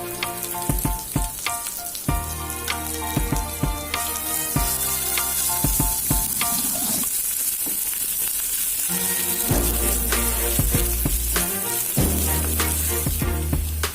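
A hot oil tempering of cumin, curry leaves, finely chopped garlic and ginger pieces sizzles loudly and continuously, with sharp crackling bursts and spatters rising and falling close by.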